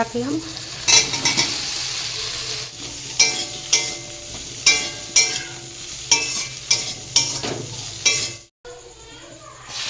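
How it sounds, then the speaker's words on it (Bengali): Potato and soybean chunks fry in a pan of spiced masala, a constant sizzle under repeated rhythmic stirring scrapes and clinks of a spoon against the pan, close and fairly loud, ending with a brief drop. "আর সোয়াবিন এখন ভাজি হবে"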